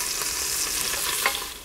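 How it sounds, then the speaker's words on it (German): Meat for a hunter's goulash sears in a Dutch oven with a loud, steady sizzle and a light scrape of stirring, close up and with no talk. "Ich möchte auf jeden Fall heute Röstaromen am Fleisch haben und deswegen brate ich das Ganze an."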